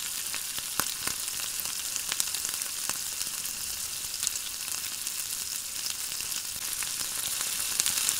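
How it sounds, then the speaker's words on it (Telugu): Ridge gourd pieces sizzle and fry steadily in a pan, with a continuous bright hiss and a few sharp clinks and scrapes of a spoon stirring them through, no talking. "ఇప్పుడు బీరకాయ ముక్కలు యాడ్ చేసుకుందాం. ఇవన్నీ బాగా కలిసేలాగా ఒకసారి కలుపుకుందాం."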